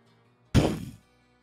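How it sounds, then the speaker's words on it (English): A single cannon fire sound effect, a sudden heavy boom with a deep low thud that decays over about half a second, heard alone against near silence. "the sound of cannon fire"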